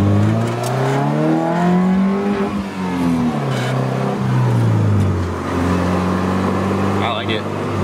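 A 700hp Honda Civic engine, running rich without an oxygen sensor, revs up and down in sweeping pitch rises and falls with small popping backfires, loud and close, while people talk over it.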